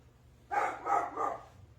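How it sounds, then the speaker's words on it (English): A dog barks three times indoors at a house, evenly spaced and moderately close, standing alone against a quiet background. "The dogs are barking."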